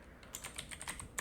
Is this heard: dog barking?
no